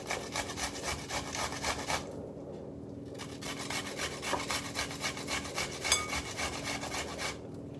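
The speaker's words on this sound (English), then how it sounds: "I am very quickly grating the onion." An onion being grated quickly by hand, giving a steady, close rasping scrape of rapid back-and-forth strokes with no talking.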